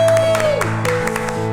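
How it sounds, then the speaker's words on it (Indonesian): Children clap in a steady rhythm along with sustained music during an online children's worship service, the claps landing at regular intervals over the tones. "Sambil tepuk tangan adik-adik."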